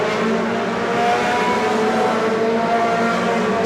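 Open wheel race cars in a NEMA Lites race at Seekonk Speedway roar past with a steady, loud engine drone and rising revs, sustained and fairly close throughout.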